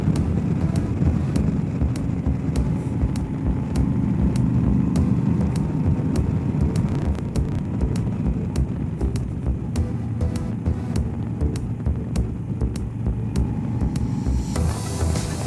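Moto Guzzi V85 TT motorcycle riding on a mountain road in the Vosges national park, a steady engine drone with heavy, constant wind buffeting the microphone throughout, loud and close with no letup.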